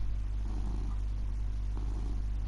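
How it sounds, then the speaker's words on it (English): A cat purrs close by, a low, steady rumbling hum running continuously under a faint background of occasional quiet noises. "I've got my cat with me, so if that's what you're hearing, purring noise"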